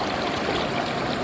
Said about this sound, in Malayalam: മുകളിലെ കാടുകളിൽ നിന്നും വരുന്ന വെള്ളമായതിനാൽ തന്നെ വളരെ ശുദ്ധമായ വെള്ളമാണ് ഈ വരുന്നത്.